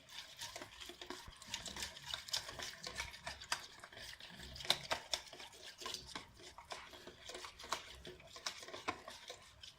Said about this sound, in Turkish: karıştırıcımızla şu şekilde iyice karıştıralım